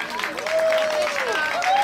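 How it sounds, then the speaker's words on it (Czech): An audience at an American football game in Prague applauds, steady clapping filling the whole moment with voices and whoops rising above it. "Tak, já prosím o velký potlesk."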